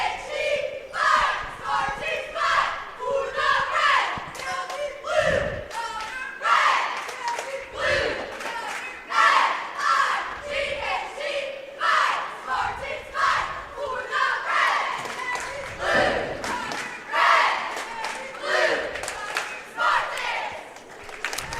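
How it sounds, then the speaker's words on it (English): High school cheerleaders from Waltonville chant their rhythmic opening cheer in unison at a basketball game, shouted phrases in a steady beat with claps and thumps, echoing in a gym with crowd noise around them. "We'll let you see and hear their opening cheer"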